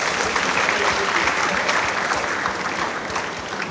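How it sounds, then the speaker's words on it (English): Audience at an African university speaker-series event applauding steadily, dense sustained clapping that holds at an even level throughout and tapers slightly at the end. "A round of applause for yourselves."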